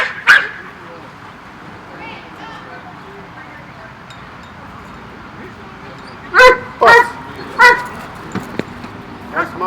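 A Rottweiler at a training facility in Compton, California barks in several loud, close bursts toward the end, with fainter whimpering and yips between them and people talking in the background.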